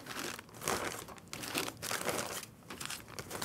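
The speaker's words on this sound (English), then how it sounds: "So I'm gonna put everything back in the bag." Plastic bag crinkling as the parts and accessories of a Broadcast Pix Switch 6 broadcast switcher are packed back inside, steady close rustle with brief pauses, no talking.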